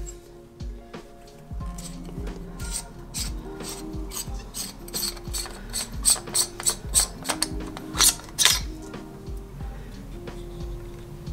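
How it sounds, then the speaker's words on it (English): Threads grind and click as the pommel of a DIY empty lightsaber hilt from a Heart of Siberia FX kit is twisted loose, a steady rubbing rasp with ratchet-like ticks that builds into sharper clicks near the end, close and alone. "simply unscrew the pommel and the chassis will come out"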